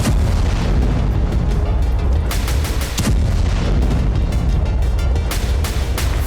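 Russian missile strikes detonate on Ukrainian weapons depots: a loud, continuous rumble of heavy blasts with several sharper booms standing out through the roar.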